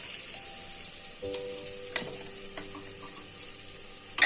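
Ridge gourd peels fry in a pan for a chutney, giving a soft, steady sizzle throughout, with a few light clinks and taps of a utensil.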